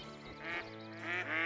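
Hen and drake ducks quacking during a mountain duck hunt in New England, several raspy calls in bursts, fairly close and clear over a low steady background.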